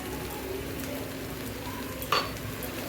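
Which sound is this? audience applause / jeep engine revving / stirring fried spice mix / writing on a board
stirring fried spice mix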